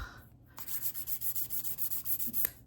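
Sterling silver knife scales for a Victorinox Classic are sanded by hand with 800 grit paper, a quick even run of soft rasping strokes, close and alone.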